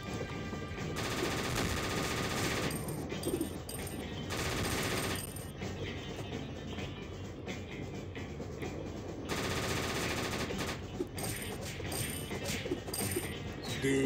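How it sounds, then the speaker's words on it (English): A Gatling gun firing in the video game Cactus McCoy, loud rapid mechanical rattling in long sustained bursts separated by brief pauses, with no speech. "I'm gonna just use this Gatling gun"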